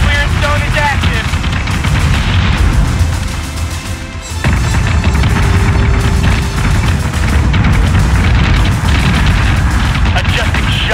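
Secondary battery guns and explosions in a Battlestar Galactica space battle, a dense loud barrage of booms and rumbling fire that dips briefly mid-way then resumes at full force.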